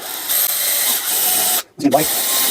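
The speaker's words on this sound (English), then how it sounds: "I'm going to use this guy to countersink it" A drill bit countersinking a pre-drilled screw hole in a torso actuator bracket, a steady close whir running for over a second and a half, then a brief cutoff and a short burst of handling before the motor resumes.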